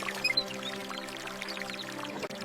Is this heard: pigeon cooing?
no